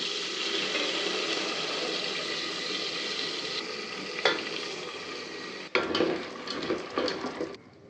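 Peanuts, cumin, turmeric, coriander powder and chopped green chillies fry in a pan with a constant close sizzle. Sharp scraping and clattering stir strokes break in near the end.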